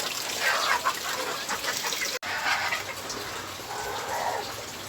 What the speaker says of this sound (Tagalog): Lakas ng ulan dito sa amin sa Antipolo.